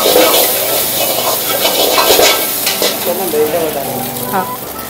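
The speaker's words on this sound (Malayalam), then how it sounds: "ആ മൂത്ത് വരുന്ന ഗാർലിക്കിലേക്ക് ആ മുട്ടയായി ഒഴിച്ച് സ്ക്രാമ്പിൾ ചെയ്തെടുക്കുക ചെയ്യാം." Beaten egg hits hot oil with fried garlic in a pan, giving a loud steady sizzle and frying crackle with scraping stirs as it is scrambled, no talk.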